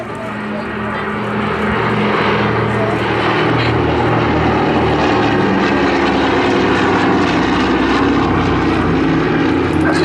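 A Douglas Dakota propeller plane with D-Day stripes on its wings flies a display pass at the Southport Air Show, its loud, continuous engine drone filling the whole stretch, with faint voices underneath.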